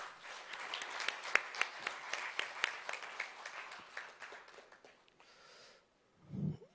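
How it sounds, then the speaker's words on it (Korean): A forum audience at the 2022 Jeju Forum applauds to welcome Jeju Governor Oh Young-hoon as keynote speaker: a hall full of steady clapping that gradually thins and fades, followed by a brief low voice after a short pause. "여러분 큰 박수로 환영해 주시기 바랍니다."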